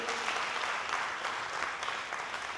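Steady, dense applause from a studio audience at a televised school quiz competition, greeting a newly introduced young teacher on the jury; continuous and fairly loud throughout, with no voices over it.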